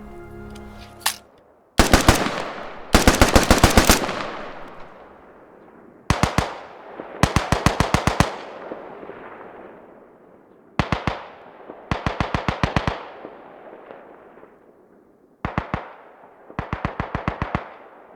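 Bursts of rapid gunfire from the HK417 marksman rifle in the video game Squad crack out in short strings of several shots each, separated by pauses, each string trailing off with echo.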